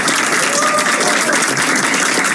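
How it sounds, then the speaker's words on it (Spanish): Dense, loud audience applause fills an event hall at an evening lecture, a continuous crowd of clapping hands from start to finish. "un fuerte aplauso"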